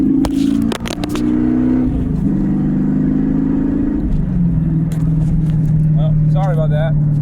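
A Chevrolet C4 Corvette with its muffler and resonator deleted, exhaust dumping at the end of the center console, drones loudly and steadily inside the cabin, its pitch stepping down through gear changes, with a brief voice near the end.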